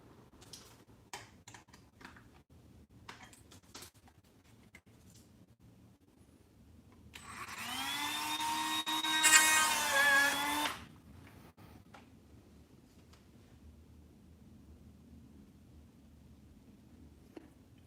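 A Dremel rotary tool cuts during an RC crawler build, spinning up in a single loud, whining burst of about four seconds. Quiet handling clicks and workshop background come before and after.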